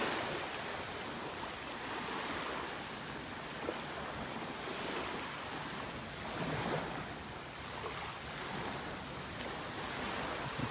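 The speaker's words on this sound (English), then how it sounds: "the waves breaking on the sandbar out there" Steady wash of low-tide waves breaking on a sandbar off a beach in North Naples, Florida, a continuous distant surf roar with gentle swells and some wind buffeting the microphone, no voices.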